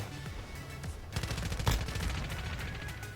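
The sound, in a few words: gunshots in Call of Duty Warzone Mobile video game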